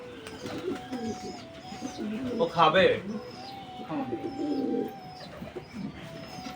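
Pet pigeons coo in soft, throaty, repeated bursts close by, with low rolling calls running through the whole stretch while a person talks over them.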